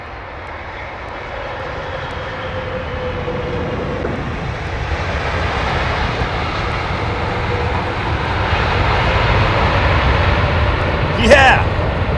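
An airliner lands on a wet runway at London Heathrow, its broad jet roar swelling steadily louder over the hiss of spray, with a brief high chirp near the end.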